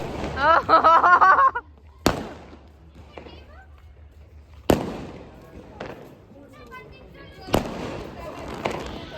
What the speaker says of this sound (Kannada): ಇನ್ನೇನು ಟ್ವೆಲ್ ಓ ಕ್ಲಾಕ್ ಆಯಿತು ಅಷ್ಟೊತ್ತಿಗೆ ಪಟಾಕಿ ಸ್ಟಾರ್ಟ್ ಮಾಡಿಬಿಟ್ಟಿದ್ದಾರೆ